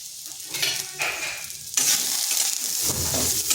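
Potatoes fry in a pan for a plain vegetarian fenugreek-greens dish, sizzling steadily and close, with stirring scrapes that make the crackle swell and fade, no talking.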